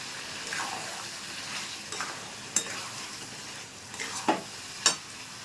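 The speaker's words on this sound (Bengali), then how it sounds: "রেড চিলি পাউডার দিয়ে দেবো ভালো করে মিক্স করে নেব" A spoon stirs chicken curry in a pan just after red chili powder goes in, giving soft scraping and a faint sizzle with a few sharper clicks against the pan, no talking.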